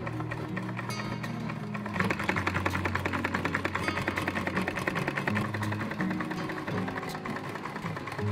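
A sewing machine stitches a cloth pouch for a homemade coconut milk press, its fast, steady needle chatter running continuously from about two seconds in, close and moderately loud with no talking.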